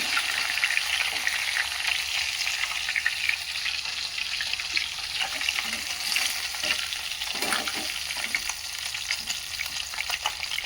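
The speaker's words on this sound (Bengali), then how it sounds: "তো মাছগুলো এখন ভেজে নিই" Fish frying in oil in a pan for a simple potato fish curry, a steady dense sizzle with crackling spatters running unbroken, close and fairly loud, with occasional utensil scrapes.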